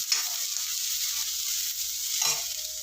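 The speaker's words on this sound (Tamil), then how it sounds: "அப்புறம் சட்டுன்னு வெங்காயம் வதங்கும்." Sliced onions with salt sizzling in a pan for Bombay chutney, a steady close hiss of frying with a couple of brief stirring scrapes, heard alone without talk.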